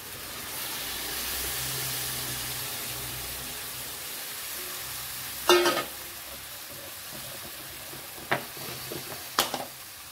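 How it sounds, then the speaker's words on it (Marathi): Masala sizzles and hisses steadily in a hot pan, then fresh wet jawla shrimp go in with sharp clattering bursts and louder crackling frying, followed by a couple of brief scraping stirs. "आता यामध्ये हा आपला स्वच्छ धुवून घेतलेला ओला जवळा आपण यात घालूया।"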